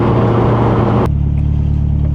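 A lightweight rear-wheel-drive Westfield Se NA R-T sports car accelerates hard, its engine roaring loudly and close, then cutting abruptly to a lower droning tone partway through, as if at a gear change.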